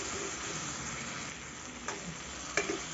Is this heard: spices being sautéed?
yes